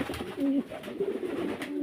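Pigeons cooing close by, soft throaty repeated coos in a quiet, low-level setting.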